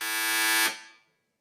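A quiz-show buzzer at a university capital market challenge's closing ceremony: one loud, sustained electronic buzz of about two-thirds of a second, cutting off with a short fading tail, no talk over it.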